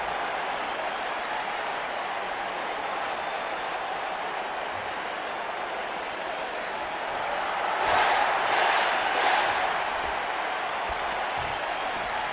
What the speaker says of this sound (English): And as you can hear, this crowd really behind Daniel Bryan right now.